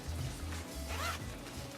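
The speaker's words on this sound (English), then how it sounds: "you can spiral this zipper around and expand the cube even bigger" A zipper on a Peak Design packing cube is pulled open in a couple of quick, close raspy strokes, heard alone and clearly at moderate volume.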